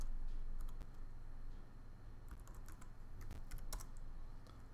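Keys on a computer keyboard are tapped in a quick burst, then a pause and another cluster of light, close clicks, as a password is entered over a low room hum.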